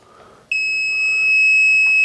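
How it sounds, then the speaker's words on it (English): A VEVOR heat press sounds its completion alert, a loud, steady high-pitched electronic beep that starts suddenly and holds continuously, close and alone over faint room noise. "Okay, there's our beep,"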